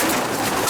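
Racing pigeons being caught and handled in a loft at a one-loft race, with soft cooing and fluttering under a steady broadband background, close and continuous.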